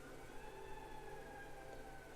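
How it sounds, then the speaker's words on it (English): Sirens of an emergency vehicle wail steadily at a distance, a faint sustained tone held for the whole moment with no talking over it. "Oh, you hear the sirens?"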